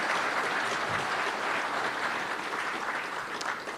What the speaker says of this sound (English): Would you please give those people a round of applause?